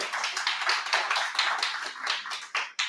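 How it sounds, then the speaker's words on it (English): A live audience claps at a company talk, a dense burst of many hands ringing out for about three seconds with a few short pauses near the end. "let's give that a clap"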